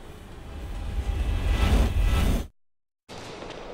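In a Resident Evil Outbreak video game, a loud rumbling roar of an approaching train builds for a couple of seconds, then cuts to a moment of silence before noise resumes.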